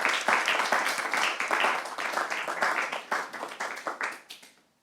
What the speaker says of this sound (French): nous pouvons vous applaudir sur ces très belles paroles